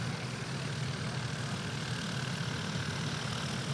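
STOL aircraft at a competition runway, a steady distant propeller engine drone with broadband hiss, no voices.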